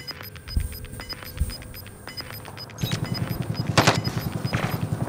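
Rapid automatic gunfire from a multiplayer shooter video game crackles in loud, close bursts, building into a sustained rattling stream toward the end.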